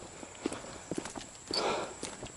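Horses walking near paddocks in Oakton, their hooves giving a few soft, irregular clip-clops at moderate distance on a quiet outdoor day.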